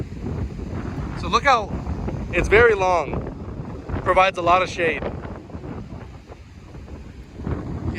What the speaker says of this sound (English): I apologize for the wind noise.